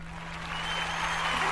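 A soundboard applause effect bursts out, a short wash of dense clapping from a crowd lasting under two seconds, fairly loud, over a steady low hum.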